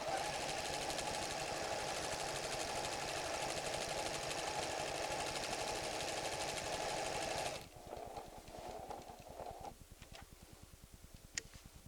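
A 1994 PFAFF creative 7550 sewing machine stitches decorative flowers in a fast, steady whirring run. It then drops to slower, quieter stitching with sharp mechanical ticks.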